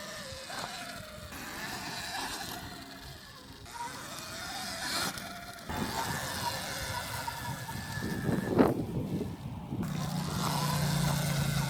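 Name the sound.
Sur-ron electric dirt bike accelerating with X controller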